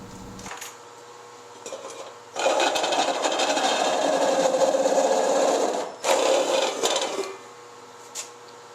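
Drill bit cutting a 7/8-inch hole through a thin stainless steel homebrew pot, giving loud grinding, rattling metallic bursts up close in two main stretches with short pauses between.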